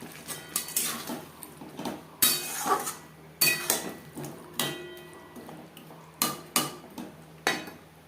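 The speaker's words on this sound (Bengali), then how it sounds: "আর দিয়ে দেবো আলু।" Potatoes dropped into a pot of rui fish curry with raw banana, a series of sharp clinks and knocks of metal utensils against the pot, close and irregular, about a dozen hits with no talk.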